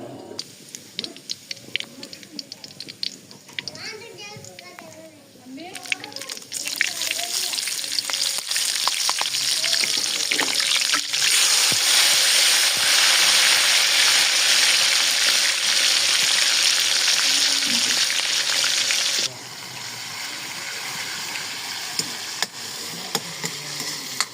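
Garlic hits a hot pan and breaks into a loud, sustained sizzle amid stirring clinks, after a few quieter seconds of scraping. The frying fades slightly near the end, with no speech.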